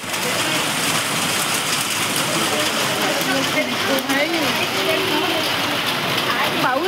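Steady rain pours down outdoors, a dense even hiss of drops on surfaces with a faint engine rumble underneath, while people talk over it.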